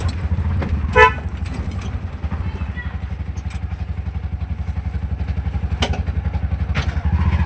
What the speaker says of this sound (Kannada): ಹಾರ್ನ್ ಹೊಡ್ಲಿ